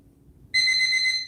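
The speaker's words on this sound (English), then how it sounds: "And I think my alarm is working." An alarm goes off abruptly after near-silence, a steady bright electronic beeping tone with a pulsing, repeating pattern, loud and close, alone with no talking.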